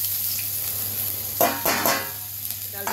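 Ginger hits hot oil in a pan for a bitter gourd dal, a brief rush of sizzling with a couple of crackling bursts over a steady frying hiss.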